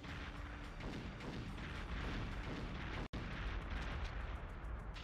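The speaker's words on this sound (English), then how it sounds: "Just waiting for the explosion" Continuous loud rumbling blasts and booms from a level of the Perfect Dark video game, dense and sustained with a brief dropout midway, no voices.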